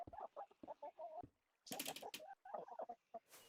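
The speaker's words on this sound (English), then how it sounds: "Are those chickens? Yes, they are in fact chickens." Chickens cluck outdoors in quick, choppy bursts of short calls, close by and fairly clear, with a brief pause midway before the clucking resumes.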